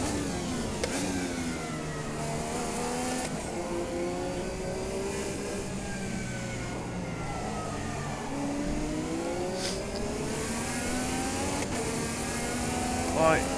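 Indy car engine in Automobilista 2 revs and accelerates with rising and falling harmonic sweeps, steady and loud throughout, with other cars' engines mixed in.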